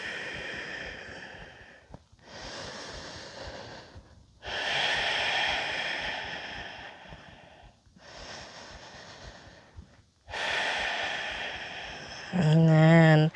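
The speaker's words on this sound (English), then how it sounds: "And breathe." Slow deep breaths during a yoga class, long audible inhales and exhales repeating in a steady rhythm, close and fairly loud, with a short tonal sound at the end.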